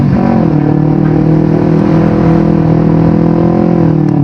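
A Kawasaki Ninja 250 FI motorcycle hums loudly and steadily while riding through traffic, its engine note holding an even pitch with a slight rise and fall, close up and continuous.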